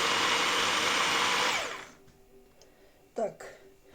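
An electric blender chopping bread and meat whirs loudly at high speed for about a second and a half, then cuts off, followed by a short clatter and quiet.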